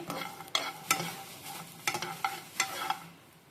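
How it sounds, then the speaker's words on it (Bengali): Garlic and green chilli with black cumin are dry-fried in an oil-free wok, with a soft sizzle under repeated sharp scraping stirs of a spatula at an irregular rhythm, close and clear. "রসুনটা আমি এইভাবে ভেজে নিচ্ছি।"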